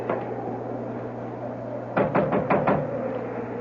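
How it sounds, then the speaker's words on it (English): About five quick, firm knocks land on a door in an old-time radio mystery drama, set against a steady low hum in an otherwise quiet scene. "I'll knock."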